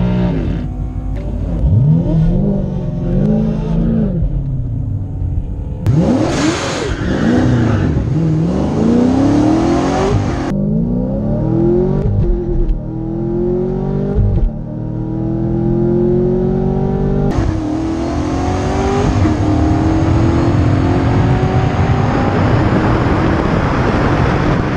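Supercharged 2017 Chevrolet Camaro SS at a dragstrip, racing a similar SS with launch control: repeated loud, close revs and hard acceleration pulls with rising engine pitch, broken by shifts and short pauses, ending in a long sustained roar.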